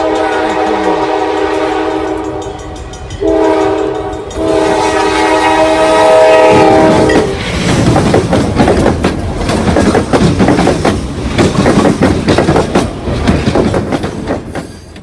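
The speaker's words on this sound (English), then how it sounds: "Here comes the train." A train approaching a railroad crossing sounds its horn in long, loud blasts, then thunders past close by with a heavy rumble and rhythmic clatter of wheels on the rails.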